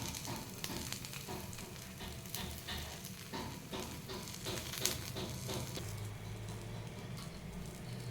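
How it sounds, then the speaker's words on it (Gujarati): A corn cheese paratha sizzles in oil on a hot griddle over a low gas flame, giving a steady close crackle and spitting with faint stirring taps and no talking. "હવે આપણે આવી રીતે તેલ એડ કરી દેવાનું. ગેસ ધીમો જ રાખવાનો અને પરોઠા મૂકી દઈશું."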